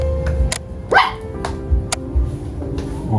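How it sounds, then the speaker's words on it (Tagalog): Dogs left alone inside an abandoned house bark in sharp separate bursts, one of them letting out a rising yelp, loud and close with some room echo between barks. "Mga aso ang nandito sa loob."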